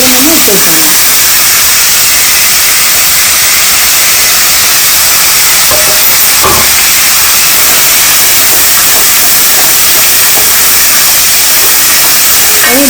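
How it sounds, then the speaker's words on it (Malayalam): Onion and other ingredients sizzle loudly in hot oil for a Kozhikode-style chicken curry, a constant bright hiss with brief stirring clatters in the middle and a voice faintly at the edges. "ഇതിലേക്ക് കുറച്ച് എണ്ണ ഒഴിച്ചു കൊടുക്കാം ഇതെല്ലാം ഒന്ന് വഴറ്റി എടുക്കണം"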